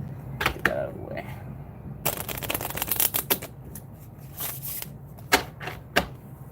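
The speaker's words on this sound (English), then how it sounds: "Might as well riffle shuffle it at least once." A deck of playing cards is riffle shuffled close by during an unboxing, with a dense burst of rapid flicking clicks in the middle and a few sharper snaps afterward, over faint room noise.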